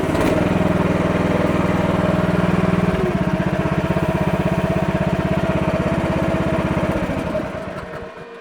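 The engine of an MH12RX mini excavator runs steadily nearby with a loud, even putter, its pitch shifting partway through before the sound fades near the end; no talking.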